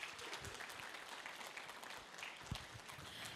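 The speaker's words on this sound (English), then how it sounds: "Please give a big round of applause for Mr. Shahid Mahmud to come here on stage." Steady applause from an audience welcoming a speaker onto the stage at a formal award event, a dense even patter of many hands clapping throughout, moderately distant with no talking over it.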